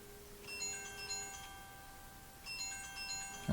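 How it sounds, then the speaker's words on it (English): A phone rings with an incoming call, two bursts of a melodic electronic ringtone at moderate volume over quiet room tone. "Okay, I guess I got a phone call."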